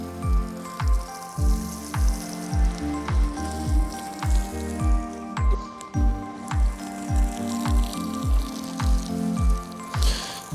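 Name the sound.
watering onions with a watering bulb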